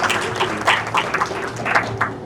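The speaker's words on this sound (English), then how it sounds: "Let's give her a big round of applause" Audience applause at a community panel event about neighborhood councils, uneven scattered clapping with a few louder bursts, moderately close, with a faint steady hum underneath.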